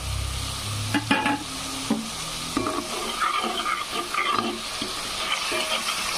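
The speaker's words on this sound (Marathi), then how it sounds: "तापलेलं होतं तेल, आणि त्यामध्ये टाकून घेऊ घरचा काळा मसाला बनविलेला।" Homemade black masala drops into hot oil for a chicken gravy, bursting into a close sizzle with scraping stir strokes and light utensil knocks throughout.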